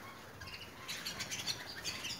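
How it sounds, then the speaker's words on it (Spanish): A small bird chirps in an aviary where canaries are kept, with a quiet, steady start and then a run of bright, high, rapid tweets that repeat close to the listener over soft background noise. "mirad este pajarito"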